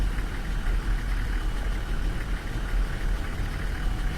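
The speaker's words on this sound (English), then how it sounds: "It really does sound like I'm thrashing this engine" Minibus engine in the Fernbus driving game, the DB40, droning loud and steady at high revs with a rough low rumble and no voices over it.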